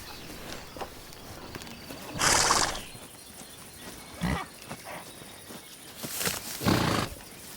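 Horses in Burgundy bocage pastureland whinny in a couple of loud bursts, with scattered hoof and movement noises between them, fairly close and without talk.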